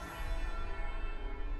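Bell tower in the video game Forspoken ringing, a sustained, resonant metallic tone with lingering overtones and a steady low rumble beneath, no talking.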